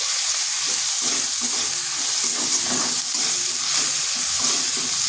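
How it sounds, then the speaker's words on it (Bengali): Ginger-garlic paste with onion paste fries in hot oil for a kohlrabi curry: a loud, close, continuous sizzle broken by the scraping and knocking of stirring, with no voices. "এগুলো একটু ভেজে নিচ্ছি যাতে আদা রসুনের কাঁচা গন্ধটা চলে যায়।"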